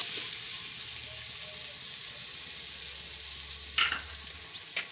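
Washed rice being mixed into tempered spices in a pressure cooker, a soft steady sizzle with a low hum, and a couple of brief scraping stirs near the end.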